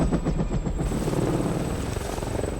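A helicopter's rotor in the film 28 Weeks Later (2007) thumps in a fast, heavy rhythm, loud and close, with a steady engine whine underneath.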